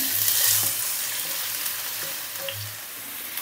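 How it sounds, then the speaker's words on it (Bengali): Onions frying in hot ghee and mustard oil give a continuous close sizzle with soft stirring movements, and no voices are present. "পেঁয়াজটা আমরা ভেজে নিচ্ছি"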